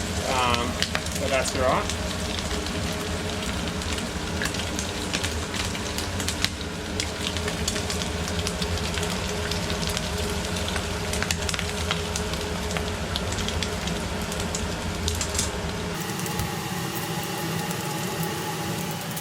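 Squid pieces fry in a very hot pan, turning golden brown, with a steady broadband sizzle that runs throughout while someone talks over it, then drops in the last few seconds.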